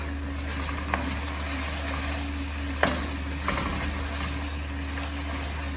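Chopped green chilies being stirred into a frying pan for tomato pulao, with a steady hiss of frying under a constant hum and a few brief utensil scrapes and taps.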